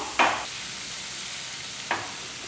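Spices and masala frying in oil in a pan for an anchovy and mango fish curry, a steady close sizzle broken by two sharp stirring scrapes, with no talking.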